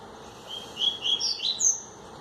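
A small bird sings early on a Sunday morning outdoors, a series of four or five short, high chirping phrases spaced about a quarter second apart, clear over quiet background.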